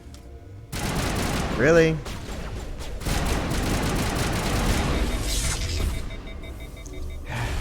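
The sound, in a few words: gunfire in video game Mass Effect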